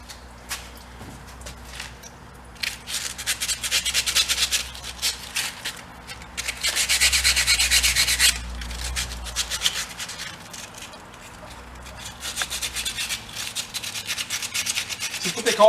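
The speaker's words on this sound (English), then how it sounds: "I'm going to scuff that up with some sandpaper" Sandpaper scuffing the painted body of a 1930 Plymouth rumble seat barn-find car, steady close rubbing strokes in uneven bursts with occasional footsteps and handling noise.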